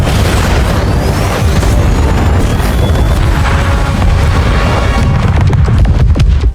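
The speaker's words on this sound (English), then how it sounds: "the camp suddenly detonated." A camp detonating in the Murderbot TV series: one sustained, loud, heavy roar of blast and rumble that fills the whole stretch without a break, then cuts off abruptly at the end.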